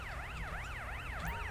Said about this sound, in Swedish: Nu kommer ambulansen här också.